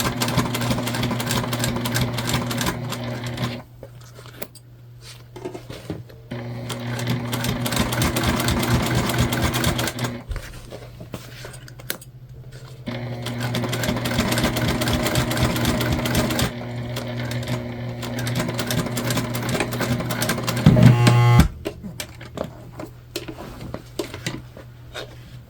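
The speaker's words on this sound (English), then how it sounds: "Now we're going to top stitch." A sewing machine stitches a bucket bag, running in long steady whirring bursts with short stops between them, close and fairly loud, with a brief clunk near the end.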